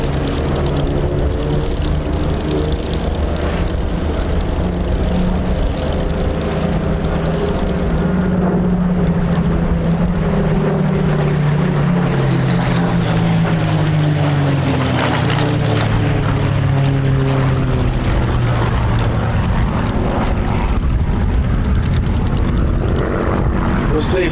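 A World War II propeller warbird passes at an airshow in Sywell, Northamptonshire, wearing D-Day stripes, its loud droning engine rising and sweeping in pitch over about twenty seconds, with an announcer's voice over it.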